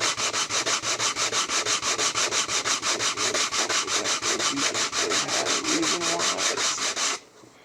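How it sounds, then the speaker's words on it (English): Steady rhythmic sanding, sandpaper rubbed back and forth on wood in quick even strokes, close and loud, stopping abruptly near the end. "Hurry and finish sanding."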